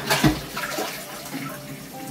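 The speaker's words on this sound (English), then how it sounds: "so when you flush," Water rushing from a Japanese toilet flush into its built-in hand-wash sink, a steady splashing flow close by with a brief louder gurgle at the start.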